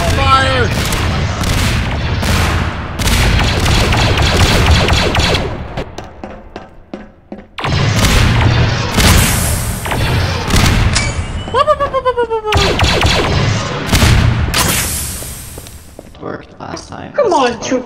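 Gunfire and explosions from a Star Wars-themed clone trooper roleplay game rattle almost continuously with heavy booms and rapid bursts, dropping briefly before resuming loudly, with shouted voices mixed in.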